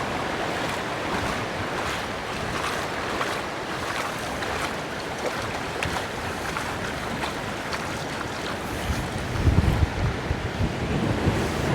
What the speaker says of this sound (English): in the next lot of waves